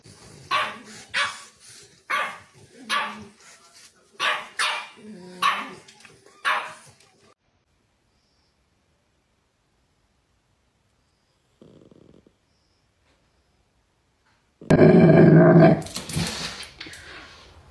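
An excited puppy with a new cactus toy barks in a quick series of loud, close yips and woofs over the first seven seconds, then falls silent before a brief rustle and a loud burst of noise near the end.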